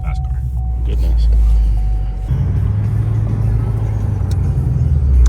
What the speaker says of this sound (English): Wow, fast car.